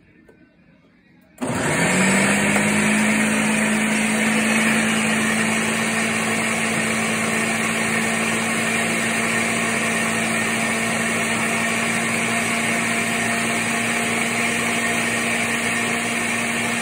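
A blender starts abruptly and runs steadily at high speed blending aloe vera, a loud continuous whirring drone that holds without pause.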